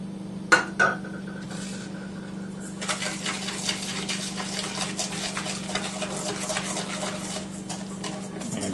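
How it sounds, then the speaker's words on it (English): Sugar whisked into a vanilla bean ice cream base in a bowl: a couple of sharp clinks at the start, then steady scraping and tapping of the whisk against the bowl over a constant low hum. "And we'll mix that together."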